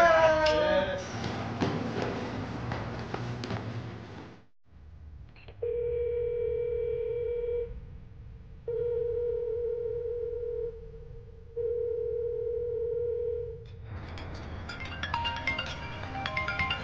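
A phone call goes unanswered during a drinking party: three long, steady ringback tones with gaps between them, sounding alone after a burst of noisy chatter and clinking, with voices returning at the end.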